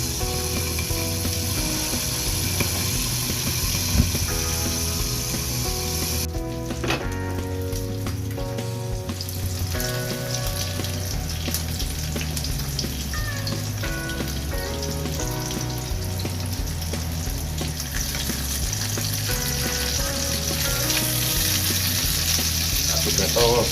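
Pork chop frying in a pan, a steady broadband sizzle that runs the whole time under background music, with brief utensil clicks and scraping near the middle.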